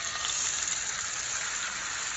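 A sous vide ribeye steak sizzles in a hot pan, giving a steady, fairly quiet hiss of frying fat with no pauses and no voices.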